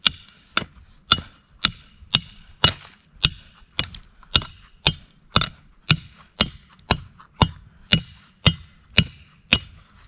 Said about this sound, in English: Preferably you want to use a hammer, but I got with me is my shovel.